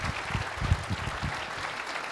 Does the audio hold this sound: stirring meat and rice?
no